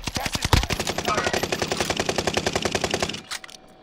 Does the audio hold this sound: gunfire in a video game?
yes